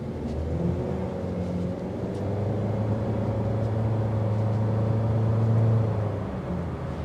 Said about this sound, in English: You're gonna hear the engine.